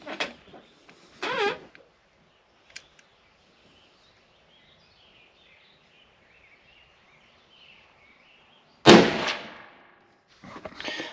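A .338 Win Mag rifle fires one sharp, loud report near the end, set against mostly quiet outdoor surroundings with a few short scattered sounds around it.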